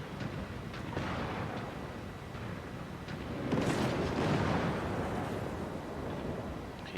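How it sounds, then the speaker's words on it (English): Heavy rumbling missile strike explosions in the MechWarrior 5 Mercenaries video game, a continuous low roar that swells into a louder burst midway and then settles back to a sustained rumble. "Incoming missile. I'll take a missile strike."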